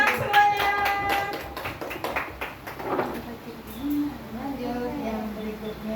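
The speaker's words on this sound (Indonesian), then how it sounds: "Tepuk tangan semuanya." A group of adults at a training session on child growth and stunting claps hands in a short burst of scattered claps that fades as a voice begins talking over it.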